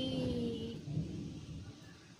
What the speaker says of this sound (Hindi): धूप निकला है, लेकिन बादल गरज रहा है अभी भी